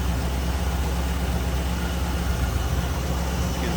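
A 1958 Oldsmobile 88 four-door hardtop's engine runs at a steady idle, a constant low rumble with broadband noise, close and unbroken, with no talk.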